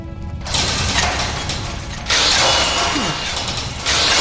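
A mechanical elevator in the game Enderal runs with loud continuous grinding and ratcheting gear noise, shifting in intensity as it moves, with no talking.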